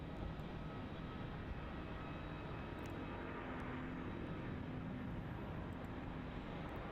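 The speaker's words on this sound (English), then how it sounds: "Airbus A350-900 now rolling down runway 34 off to Chengdu." An Airbus A350-900 rolls down runway 34 at Melbourne Airport, heard as a steady, broad, distant jet roar that holds even across the whole stretch without distinct peaks.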